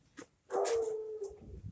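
A single short, sharp dog bark that trails into a brief whine, fairly faint and heard on its own against a quiet background.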